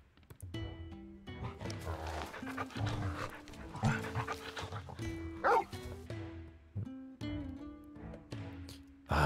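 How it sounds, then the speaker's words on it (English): Torgel, a wolf pup in Final Fantasy XIV, pants and gives whiny yips and small barks close up, in short uneven bursts over a soft backdrop. "This is Torgel, a wolf pup raised in the duchy."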